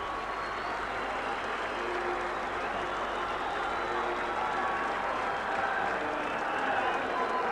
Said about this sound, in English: Good crowd here at Central Park tonight.